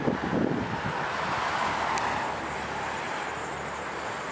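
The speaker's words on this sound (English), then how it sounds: "Yeah, it's kinda windy." Steady wind blows outdoors, rushing and buffeting against the microphone in a continuous, fairly quiet roar with no voices.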